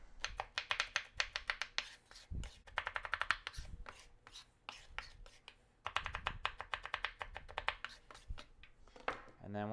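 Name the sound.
chopping nuts finely on a big cutting board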